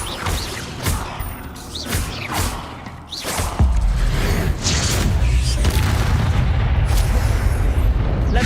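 Hogwarts Legacy spell effects as the Descendo spell slams objects down, with loud heavy booms and crashes over a continuous rumbling game soundscape, close and dense, with no talking.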